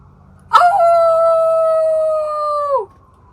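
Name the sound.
coyotes howling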